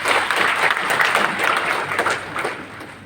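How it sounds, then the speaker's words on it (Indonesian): An audience at a regional government gathering for village heads applauds the village head, a sustained burst of dense, fairly loud clapping that gradually tapers off. "tepuk tangan untuk Pak kampungnya."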